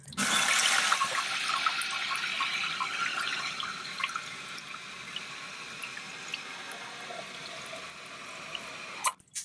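A toilet tank refills after a new fill valve is fitted, first a loud rushing gush of water, then a steady hissing fill with small drips and trickles running on close by.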